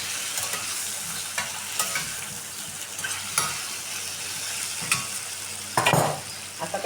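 Drumstick pods being sautéed in a pan after steaming make a steady sizzle with repeated scraping stirs of a spatula and occasional louder clatters against the pan.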